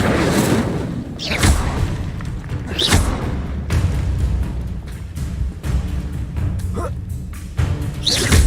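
Fiery bursts from the Incendio fire spell in Hogwarts Legacy: several loud whooshing booms land at irregular intervals over a steady rumbling game background.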